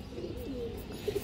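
Fancy pigeons from old bloodlines give short, low cooing calls at close range, a soft rolling coo in the middle followed by two brief louder coos near the end.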